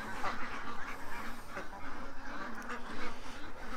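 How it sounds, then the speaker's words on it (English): Ducks quack steadily in a busy outdoor flock, a continuous overlapping chatter of calls at moderate distance with no voices over it. "Oh, get inside there, duck."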